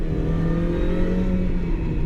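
A Mini R52 engine pulls steadily under acceleration from inside the car, a sustained mid-pitched drone with no talk.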